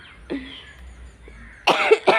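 Two sharp, close coughs from a person recovering from fever, in quick succession after a quiet stretch with faint background sounds.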